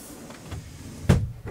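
A door behind the seat of a Bürstner Argos 747 motorhome folds open with a couple of soft rustles, then a single sharp plastic clack and a brief scrape, close by with no one speaking.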